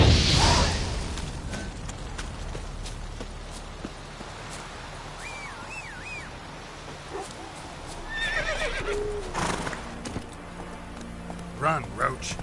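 Roach, a horse in the video game The Witcher 3, running with soft hoofbeats and occasional neighs and whinnies, mixed with swishing effects and a spoken voice partway through.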